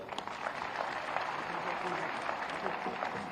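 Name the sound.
audience applause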